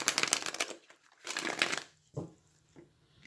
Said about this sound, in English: I'm going to shuffle a couple of times for you as well.